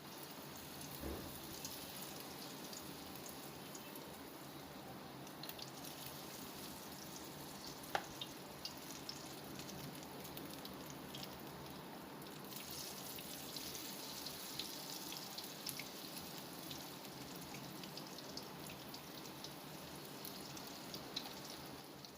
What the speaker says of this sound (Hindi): तेल के अंदर हम अपनी पकौड़ियाँ फ्राई करेंगे।